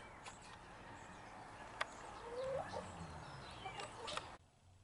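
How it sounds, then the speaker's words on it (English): Faint chicken clucks and a short squawk over a soft, steady background hum, with a few scattered clicks and no talking. "And there's some of my little chickens right there."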